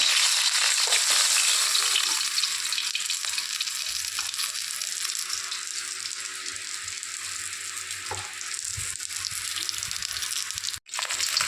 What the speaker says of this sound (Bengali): দেখুন মাছগুলোকে আমি ভেজে নিয়েছি, এবার আমি তুলে নেব।